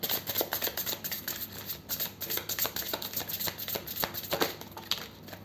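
Tarot cards being shuffled and drawn by hand, a quiet run of rapid papery riffles and flicks, close and soft, with no talk.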